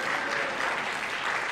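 A chamber of commerce audience breaks into a brief, even burst of clapping, dense and steady across the whole moment, with no voices rising above it.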